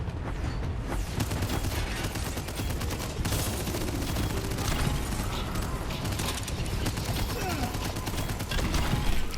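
Rapid-fire attacks in Elden Ring Nightreign, a dense, loud, continuous barrage of crackling hits and bursts running unbroken from start to finish with no pauses.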